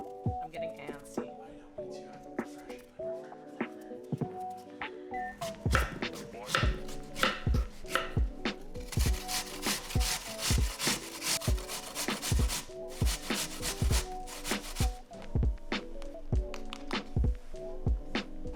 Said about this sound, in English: Now we're gonna take 1 apple, we're gonna peel it and grate it as well.